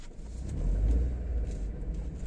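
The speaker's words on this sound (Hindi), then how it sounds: "अब गाड़ी को थोड़ा सा चलाकर देखते हैं, काफ़ी अच्छी चल रही है भाई गाड़ी" A 2013 Volkswagen Polo engine pulls away in first gear, a steady low rumble that swells slightly as the car moves off, heard from inside the cabin with no talking.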